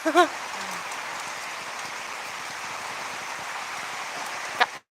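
Steady rain falls outside a home in West Sumatra at year's end, a continuous even hiss with a couple of brief knocks near the start and end.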